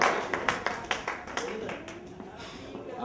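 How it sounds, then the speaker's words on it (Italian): Audience applause at a team presentation event: scattered hand claps of moderate loudness running under a speaking voice, fairly close, irregular and thinning toward the end. "Un applauso a Manuela e a Manuela."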